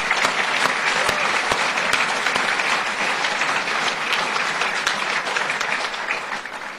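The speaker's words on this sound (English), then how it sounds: "Round of applause," Sustained, dense applause from an audience at the opening of a fire and rescue challenge event, with steady, crowded clapping throughout, tapering slightly at the end.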